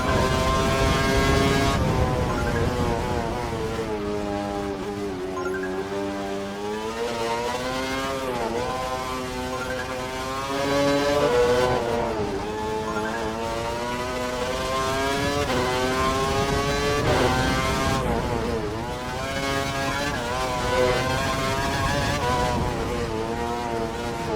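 A Formula 1 car engine in the F1 2012 racing game on a wet track, a loud continuous high-pitched whine rising and falling through gear changes and corners, with no talking.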